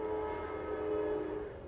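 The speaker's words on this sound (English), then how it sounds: "train going by" A train rumbles past with a low, steady drone and a sustained horn-like tone, moderately loud and continuous, with no talking.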